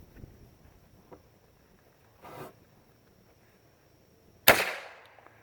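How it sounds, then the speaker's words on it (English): A percussion cap pops on a cap lock gun: one sharp, loud crack with a brief ringing tail, after a few faint handling clicks and a short rustle. "Oof, that's a good pop right there."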